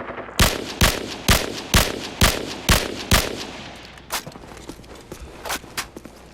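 An assault rifle in Call of Duty 4 fires a series of sharp, loud single shots in a steady rhythm, followed by quieter, softer reports trailing off.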